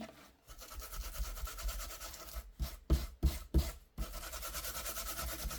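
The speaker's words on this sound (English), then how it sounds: "Okay, let's then take a little bit of sandpaper." Hand sanding with a small piece of sandpaper to smooth a die-cut craft piece: a steady close scratchy rubbing, broken near the end by four short separate strokes before the even rubbing resumes.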